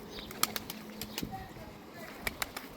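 Tumbler pigeons coo softly in the background while scattered sharp wing flaps and claps sound nearby.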